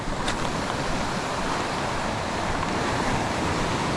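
Ocean surf washing steadily onto an Australian shore, a constant broad roar of breaking water with some wind across the microphone, loud and unbroken throughout.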